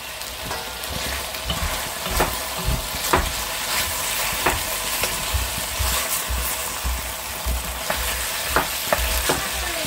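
Chicken broth added to a cast-iron pot, a loud steady sizzle and bubbling with occasional stirring clicks, close up and without talk.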